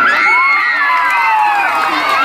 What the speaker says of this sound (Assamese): ৰিচা চেত্ৰীৰ কাৰণে এটা হাত চাপৰি